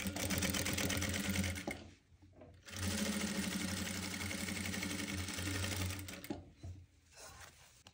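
A sewing machine runs in two long bursts on a velvet blouse, a close, steady rapid whirring with a short pause between them.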